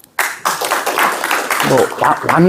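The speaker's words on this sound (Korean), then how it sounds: "박수 한번 주시죠" Indoor audience at a Korean construction safety seminar on lithium-ion batteries breaks into applause, a short burst of clapping mixed with a speaker's voice close by.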